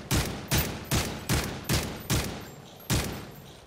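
Sniper rifle gunfire in a first-person shooter video game: seven loud, sharp shots in a fairly steady rhythm, each with a short decaying tail, heard alone without talk.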